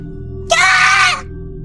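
A girl's shrill scream, used as a sound effect in a narrated horror story, rises suddenly over a low steady background hum, holds for about half a second, then cuts off.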